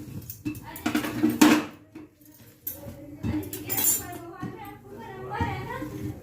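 Thalis for two being laid out for a home meal, with metal plates and cutlery clinking and clattering in short bursts nearby while people talk over them.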